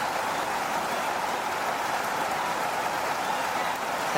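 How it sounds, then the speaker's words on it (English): Steady, even rain hiss at La Senda Verde animal refuge in Bolivian forest, constant broadband patter filling the whole stretch with no pauses. "I think it's going to start raining."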